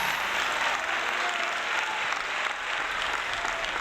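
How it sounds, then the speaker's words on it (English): A large crowd applauds steadily, a dense and continuous wash of clapping with faint cheering mixed in, loud and even throughout without any speech over it. "The crowd goes wild."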